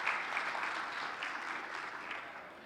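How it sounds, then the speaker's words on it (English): Sustained audience applause at a business conference's opening address, a dense, steady wash of many hands clapping at even loudness throughout, with no talk over it. "So I'd like to start with a round of applause for the team who have worked"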